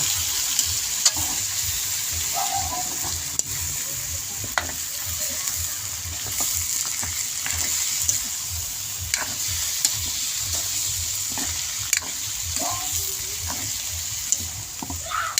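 Chopped chayote tipped into a hot pan and sautéed for a chicken tinola, giving a steady close sizzle and frying hiss with scattered stirring scrapes and clicks throughout.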